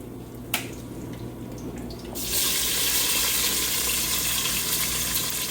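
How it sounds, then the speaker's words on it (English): Diced onion hits hot oil with mustard seeds in a pan: a small click, then a sudden loud, steady hissing sizzle that holds to the end. "now I add in my diced onion"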